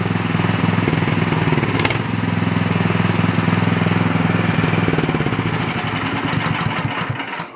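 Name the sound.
small engine idling and hunting, lean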